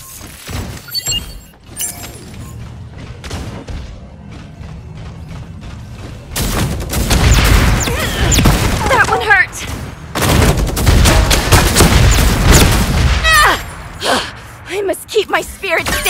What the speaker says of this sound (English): Was that gunfire just now?